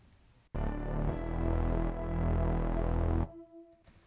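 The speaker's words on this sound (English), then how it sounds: "So the first thing that comes in is a synth stab" A dense, buzzing synth stab chord hits abruptly over a thick, rumbling Reese bass, sustaining for a few seconds before cutting off, leaving a faint tone.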